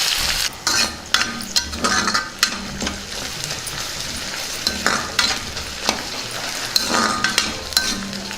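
Onion pieces fry in a pan with cardamom and cinnamon, a steady close sizzle broken by repeated scraping stirs and light clinks of a spoon against the pan.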